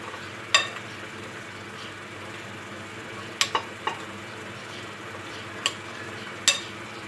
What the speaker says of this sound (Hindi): लेमन जूस, चाट मसाला, ये सब चीज़ें डाल के इसे अच्छी तरह से मिक्स कर लेंगे